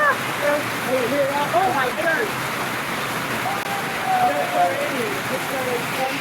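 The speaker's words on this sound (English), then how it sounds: "And the hail is still coming down." Heavy rain and hail pour down without a break onto a beach patio, a loud dense steady hiss, with excited voices talking over it.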